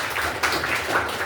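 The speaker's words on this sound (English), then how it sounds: "Give a big round of applause for this table, everyone." Applause from a comedy show audience for one table rises as a dense, continuous wash of hand clapping from a room full of people, brief and moderately loud.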